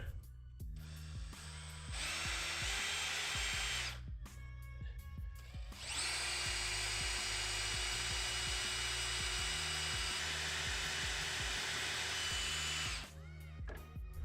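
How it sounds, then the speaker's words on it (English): An electric drill bores into a rusted stud on a Subaru Impreza 2.5RS hub, running in two long whining bursts separated by brief pauses, close and steady. "we're gonna go ahead and try and drill that out and heat it and drill it"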